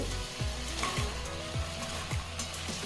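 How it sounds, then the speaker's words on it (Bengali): Pre-fried potatoes hit sizzling spices with a little sugar in a pan. The frying hiss runs steadily throughout, with regular low knocks as the pieces are stirred. "এবারে দিয়ে দিচ্ছি ভেজে রাখা আলু"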